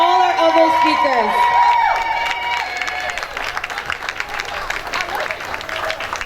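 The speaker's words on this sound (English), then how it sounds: "Let's get another round of applause for Mackenzie and all our other speakers." A Juneteenth crowd in Manchester, NH, claps and cheers for Mackenzie and the other speakers, the applause swelling under lingering voices and tones, then continuing as scattered clapping.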